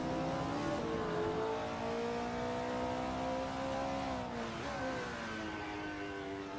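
Formula Student race car in a sim racing video game, engine note held high and then dropping through a downshift, sustained and fairly close, with no voices.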